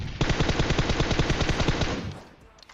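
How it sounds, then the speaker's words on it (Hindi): Rapid automatic gunfire in PUBG Mobile rattles off in a fast, even burst of close, loud shots lasting about two seconds, then cuts off and fades. "उस बंदे ने कौन सी गन चलाई, लेकिन यार जो भी गन चलाई बहुत बुरी तरह चलाई"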